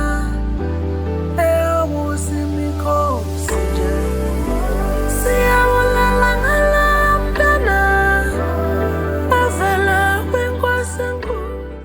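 A song plays with a steady bass line and chords under a melodic vocal line, all mixed with stock FL Studio plugins, full and continuous with no talk over it.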